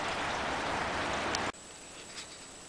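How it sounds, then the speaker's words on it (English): Steady broadband rain hiss outdoors with wind, loud and continuous for about a second and a half, then cutting abruptly to a much quieter, muffled background with faint patter. "definitely got to get in out of the rain because the wind is starting to blow a lot harder"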